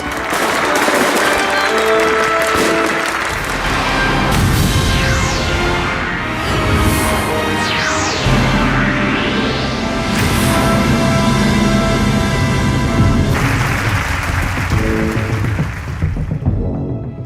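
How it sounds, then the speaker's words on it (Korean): An audience applauds to open a large international peace rally, the clapping blended with swelling music and sweeping effects, loud and continuous throughout. "여러분들의 뜨거운 박수로 시작하도록 하겠습니다"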